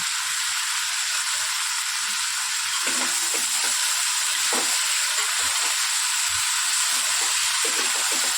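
Green chillies frying in hot oil in a pan for a home-style mixed vegetable dish, a loud continuous sizzle and hiss with occasional stirring scrapes and pops, close up and without talk.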